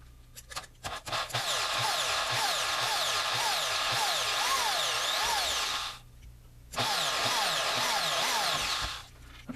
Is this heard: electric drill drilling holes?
yes